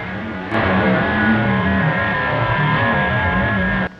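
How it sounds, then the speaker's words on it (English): A steady, warbling FT8 digital mode radio signal tuned in AM, multiple tonal lines over a buzzy hiss, starting abruptly and cutting off near the end, with no voices. "So this is simply some FT8, which is a digital mode."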